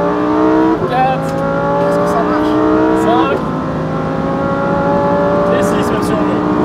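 Lamborghini Huracan STO on a race track, the engine climbing in pitch through repeated upshifts, loud and close from inside the cabin, with people talking over it.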